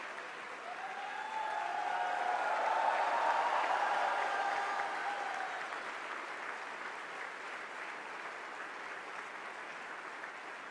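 Sustained applause from a conference audience rising in a standing ovation, a broad even wash of clapping that swells over the first few seconds, then settles and continues steadily throughout.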